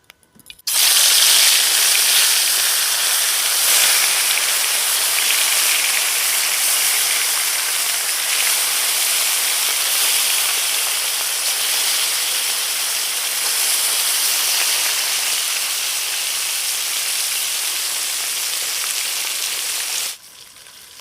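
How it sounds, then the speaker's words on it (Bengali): Mustard oil for frying fish sizzles in a wok, a loud, steady, close hiss that starts abruptly, holds evenly for about twenty seconds and then cuts off. "মাছ ভাজবো তাই কড়াইতে দিয়ে দেবো সরষের তেল।"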